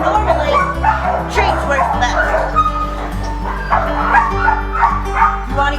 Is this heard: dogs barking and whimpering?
yes